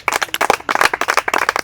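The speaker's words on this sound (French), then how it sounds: "Applaudissez pour elle." Applause from an audience for someone speaker at a children's event in the DR Congo: dense, uneven clapping from several hands, loud and close, with brief dips between bursts.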